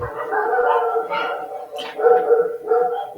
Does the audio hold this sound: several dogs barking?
yes